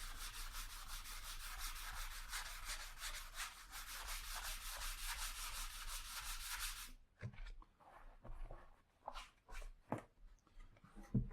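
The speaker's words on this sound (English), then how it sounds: "I want to sand one area and then show you what that looks like in comparison." Sandpaper rubbing over primer on an acoustic guitar kit body, a steady rhythmic back-and-forth scratching for about seven seconds, then a few quieter scattered strokes and handling knocks.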